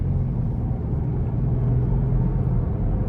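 A 2017 Range Rover HSE with a supercharged V6 engine driving on the road, heard from inside as a steady low engine and road rumble at moderate loudness, with no talk.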